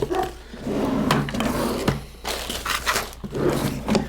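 Drawers in a sign-making workshop are pulled open and rummaged through, giving a run of close wooden knocks, slides and crinkling clatter with brief pauses between bursts of searching.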